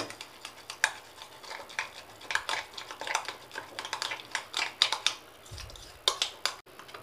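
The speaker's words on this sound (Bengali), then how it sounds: "এটাকে ভালো করে ফেটিয়ে নেবো আগে।" Egg mixture with bread crumbs and salt for Mughlai paratha is beaten in a bowl, giving quick, irregular clicking taps of the utensil against the bowl, close and fairly faint, with no talk.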